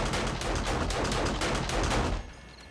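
Automated base turrets in 7 Days to Die fire a dense, steady stream of bullets for about two seconds, loud and continuous, then cut off abruptly.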